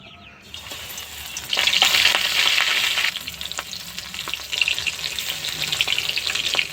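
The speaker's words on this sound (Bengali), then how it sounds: "কোট করা ভোলা মাছগুলো তেলের মধ্যে দিয়ে ভেজে নেব।" Batter-coated bhola fish dropped into smoking-hot oil, a quiet start that bursts into a loud, crackling sizzle, easing slightly and swelling again with bubbling pops as the pieces fry.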